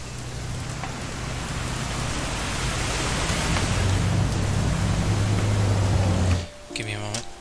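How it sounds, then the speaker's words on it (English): Steady rain falls in the video game What Remains of Edith Finch, a loud, dense hiss with a low hum underneath that runs for several seconds before cutting off abruptly, after which a voice speaks. "It's gonna rain the whole weekend, isn't it?"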